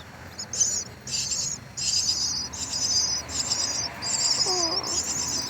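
Baby birds in a nest inside a tree trunk chirp in a steady stream of rapid, high-pitched bursts, close by and fairly loud over a soft outdoor background hiss, with no talking.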